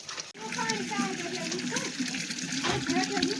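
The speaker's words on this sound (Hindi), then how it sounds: "अभी अपन की गागर भर रही है, इसके नीचे बाल्टी रखेंगे फिर ये पानी से भरती है।" Water runs steadily from a stream outlet into a metal gagar in rural Uttarakhand, with a constant gushing splash. Nearby voices, including children's, talk over it.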